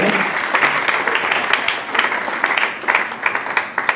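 A church congregation applauds together in dense, lively clapping that fills the whole stretch, with scattered voices and cheers mixed into the crowd.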